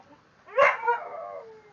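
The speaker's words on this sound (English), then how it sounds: "you hear a dog in the background." A single dog bark stretches into a short, wavering howl at moderate distance against quiet surroundings.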